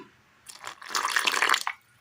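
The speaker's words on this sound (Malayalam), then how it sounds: "ഒരൽപ്പം ഉപ്പ്, ഒരൽപ്പം മീറ്റ് മസാല, വെള്ളം ഒഴിക്കാം." Water splashes and gushes into a bowl of salt and meat masala for about a second, a close, bright pouring sound that starts abruptly and stops cleanly.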